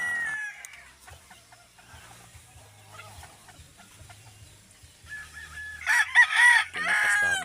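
A Labuyo rooster clucks softly, then lets out a loud, close crow toward the end, with other faint bird calls and low sounds in between.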